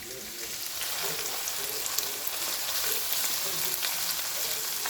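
Thin-sliced Australian wagyu, cut like shaved pork belly, sizzles steadily on a grill with a dense, crackling fry that stays close and even throughout, with no talking.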